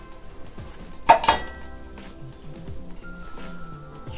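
Cloves dropped into a pan while cooking stuffed mussels, with a sharp metallic clink of a utensil against the pan midway, followed by softer clatter and quiet kitchen background.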